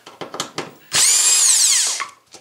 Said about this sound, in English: Remove this three Phillips screws.